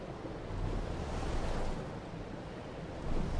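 A rushing flood of water in the video game Outer Wilds, a broad continuous wash of surging, roaring noise that swells and recedes, with no talk.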